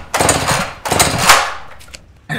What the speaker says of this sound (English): That's a goddamn chainsaw.